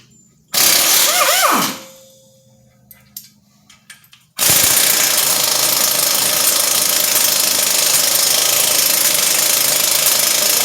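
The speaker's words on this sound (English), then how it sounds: "then go back and run them out with the air gun" A pneumatic air impact gun runs out the wheel hub bolts on a 2012 Lincoln MKS in a workshop, with a short loud burst, a few scattered clanks, then a long sustained loud rattling hammer.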